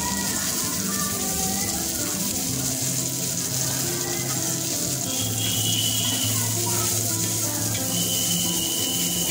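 Dried bombil fish roast in hot oil in a pan, giving a steady, close, hissing sizzle that runs without break throughout.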